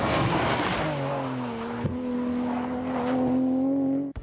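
A tuned rally car, Impreza or Lancer, accelerates hard with a loud, rising engine note through a gear, a brief dip at a shift and a sharp cutoff at the end, heard close from inside.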